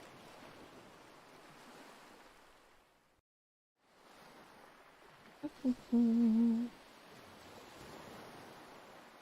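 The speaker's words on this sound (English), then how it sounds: "enjoy ocean sounds while we wait" Ocean waves wash in a soft, steady surf hiss that breaks off briefly to silence, then returns with a short tonal beep and faint wind noise.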